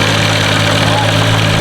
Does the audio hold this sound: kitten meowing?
no